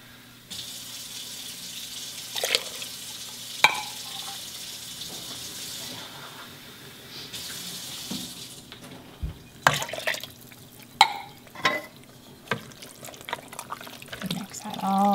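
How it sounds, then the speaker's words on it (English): Tap water runs into a pot while making chili, a cup added to the pot in intermittent gushes and splashes, with quiet pauses between bursts. "And then you want to add about a cup of water."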